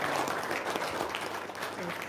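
Audience applause in a gathering, a dense steady patter of clapping throughout with some voices mixed in.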